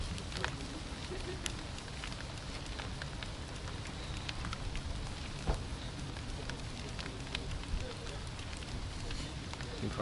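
Steady patter of rain on a surface in a garage setting, a constant crackling hiss with occasional louder drops, with people talking nearby.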